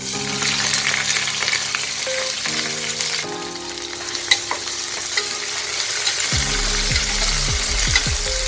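Sliced onions frying in a pan with garlic for beef curry, a steady close sizzle and crackle throughout, with stirring scrapes and a few sharp clicks near the end.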